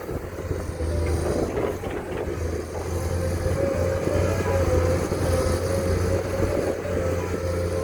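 A heavy diesel excavator engine, a Komatsu SAA6D107, drones steadily with a low rumbling roar, fairly close and constant throughout, with no speech.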